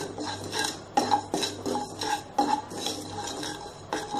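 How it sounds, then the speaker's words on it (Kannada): Cumin seeds frying in a pan for homemade vangi bath masala powder, stirred with a metal spoon that scrapes and clinks against the pan repeatedly in an uneven rhythm, close and moderately loud, with no talking. "ಜೀರಿಗೆ ಫ್ರೈ ಮಾಡ್ಕೊಳ್ಳೋಣ"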